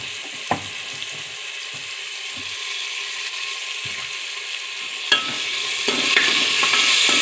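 Crushed ginger and garlic dropped into hot oil with tomato, a steady close sizzle that swells louder after a clatter of stirring near the end, with no voices.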